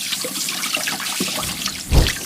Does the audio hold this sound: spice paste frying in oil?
no